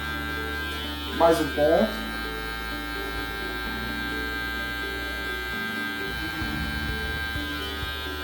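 An electric hair clipper hums steadily throughout while cutting a long fade on kinky hair. Someone talks over the buzzing.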